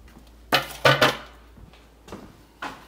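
Plastic-and-metal clatter as a blade base is fitted onto a NutriBullet blender cup, a few sharp close knocks and clicks in quick succession, then quieter taps, with no talking.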